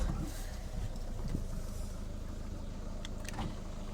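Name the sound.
Citroen C4 car engine starting and running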